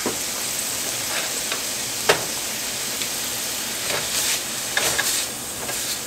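Bacon and short rib mixture frying in a pan, a steady loud sizzle with occasional stirring scrapes and clicks, close and continuous, without talk.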